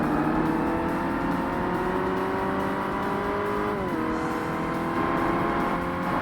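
Race car engine in Forza Motorsport (2005, Xbox) during an American muscle challenge, a loud sustained engine drone rising in pitch, dropping briefly around a gear change, then climbing again, with tire and road noise.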